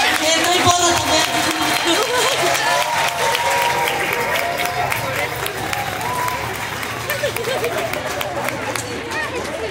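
Loud, dense applause from a crowd at an award ceremony for a traditional branch-decorating contest in Xalapa, sustained throughout with crowd chatter and voices mixed in.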